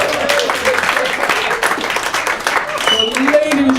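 Comedy club audience applauding after a joke, a sustained wash of clapping from the crowd with voices and cheering mixed in.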